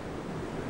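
Pacific Ocean surf washing in near the shoreline as a steady, full wash of breaking water, mixed with wind rumble on the microphone and no voices.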